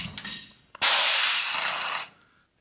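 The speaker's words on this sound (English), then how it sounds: "Take your top rivet gun, put it in the hole, and pull the trigger." A top rivet gun sets a single rivet into new roof skin on a skoolie roof raise, a loud sustained pneumatic hiss lasting over a second, preceded by faint clicks as the tool is placed.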